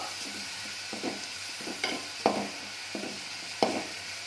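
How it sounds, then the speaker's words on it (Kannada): A coriander rice mixture is stirred and fried in a pan, a soft, even sizzle with repeated spoon scrapes and clinks at an irregular pace. "ಚೆನ್ನಾಗಿ ಕಲಸ್ಕೋಬೇಕು ಅದು ಹಸಿ ವಾಸನೆ ಹೋಗೋವರೆಗೂ ಹುರ್ಕೋಬೇಕು"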